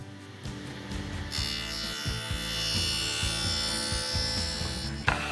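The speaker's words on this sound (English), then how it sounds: "since my table saw is already set up from cutting the grooves earlier, all I need to do is make multiple passes" A table saw makes repeated passes through a wooden blank to cut a wide rabbet, giving a steady close motor whine with a rising rough cutting roar partway through and no speech.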